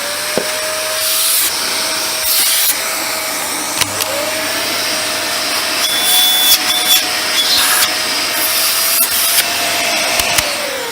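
Suction test on Dyson DC24 and DC50 vacuum hoses, a steady loud whooshing motor roar with airy hiss, changing pitch slightly as the hose is moved, with occasional clicks and knocks.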